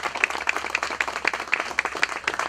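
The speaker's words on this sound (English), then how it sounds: "We want to give the family a big round of applause for all they've done for our city" A small crowd claps for the Migliore family at the grand opening of Nob Hill Park, a brisk, fairly close burst of applause with distinct individual claps in a quick uneven rhythm.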